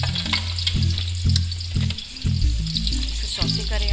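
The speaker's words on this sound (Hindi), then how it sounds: "इसे सॉसे करें आप, जब तक ये प्याज भून रही है, थोड़ी सी सॉसे हो रही है" Chopped onions sizzle and fry in hot oil for a mutton or beef haryali gosht gravy, a steady loud hiss broken by rhythmic scraping thumps of a spoon stirring the pan.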